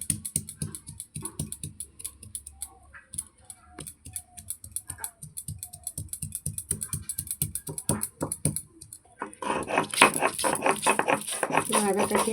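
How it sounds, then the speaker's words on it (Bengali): Fresh ginger is pounded and crushed on a stone grinding slab with a stone muller, giving rapid, close, irregular knocking and scraping strokes, followed by a denser, louder stretch of rubbing and grinding near the end. "এবার আমি এই যে আদাগুলোকে একটু থেতো করে নিচ্ছি।"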